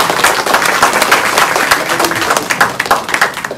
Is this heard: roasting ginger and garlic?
no